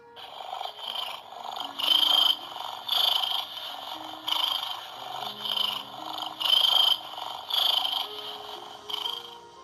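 A purring sound effect from the Pop Shrooms video game comes in rhythmic, pulsing swells about once a second, buzzy and chirpy like crickets over a soft low drone, continuous for several seconds.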